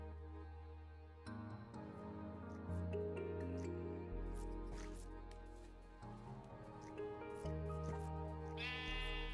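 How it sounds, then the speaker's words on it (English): Sheep bleating in the Minecraft video game, a few short bleats over a steady game music background, moderately loud and close, with no talking. "Now, you will see how kind-hearted I really am by rescuing the sheep."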